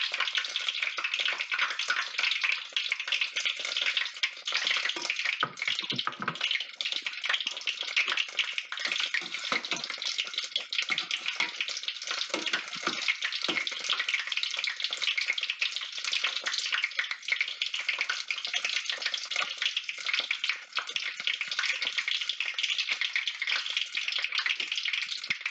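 Corn and green onion fritters frying in hot oil, a continuous even hiss with fine crackle that holds steady and close throughout, with no talking.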